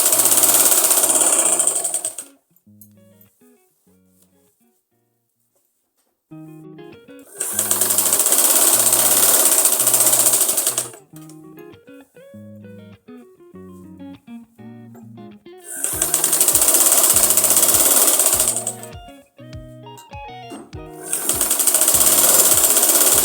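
A sewing machine stitches an Afghani salwar hem, folded from the underside, in loud fast bursts of several seconds, separated by quieter gaps with faint rhythmic clicking and handling sounds.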